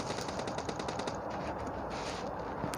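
Rapid automatic gunfire in the PUBG Lite battle royale game, a fast run of sharp bursts firing in quick succession, loud and sustained for a few seconds.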